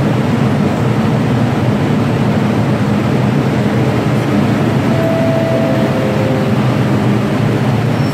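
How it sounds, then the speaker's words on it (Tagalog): Hong Kong MTR Red Line train at Central Station, a loud constant rumbling hum of the train and platform, with a brief faint tonal whine partway through, no voices. "So ayan yung train, napaka haba at nagsasakay ng mga pasahero."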